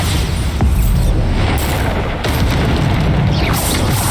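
Bombarda explosion spell in the Hogwarts Legacy video game, loud continuous booming blasts with deep rumbling, heavy and close throughout.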